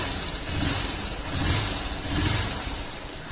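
A Honda Unicorn 160 motorcycle engine catches after ignition and settles into a steady, fairly loud idle with slight rhythmic pulsing, heard alone and close.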